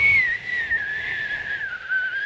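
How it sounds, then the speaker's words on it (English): A person whistles one sustained, slightly wavering tone, close and clear, with no talk over it. "We got whistling."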